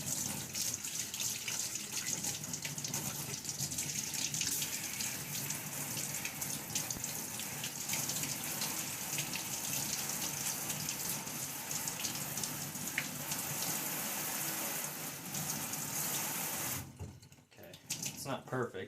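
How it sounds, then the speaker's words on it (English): Running water pours steadily over RODI filter parts being rinsed at a sink, a loud, close, continuous splashing hiss that breaks off briefly near the end before resuming. "Just have to rinse that off, or dry it off."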